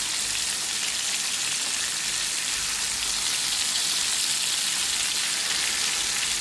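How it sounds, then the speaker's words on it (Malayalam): Pearl spot fish (karimeen) shallow frying in oil give an even, close, continuous crackling sizzle, like steady rain, with no pauses or voices. "ഇങ്ങനെ നമുക്ക് എല്ലാ മീനിനെയും ഒന്ന് ഫ്രൈ ചെയ്തെടുക്കണം"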